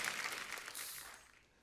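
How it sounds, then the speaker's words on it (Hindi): Enthusiastic audience applause at a Hindi celebrity talk show, a dense wash of clapping that holds steady and then tapers off toward the end, with no talking over it. "जोरदार तालियां हो जाएगी।"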